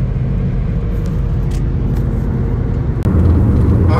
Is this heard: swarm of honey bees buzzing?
no